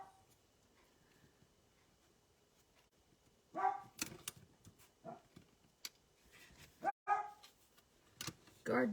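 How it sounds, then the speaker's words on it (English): A dog barks in short, scattered bursts from a little distance, with quiet stretches between, during a papercraft session cutting holly berry and floret dies. "Guard dog is on duty."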